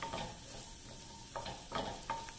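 Tofu lightly browning in a claypot sizzles with a soft steady hiss, broken by a few short scraping stirs near the end; no voices.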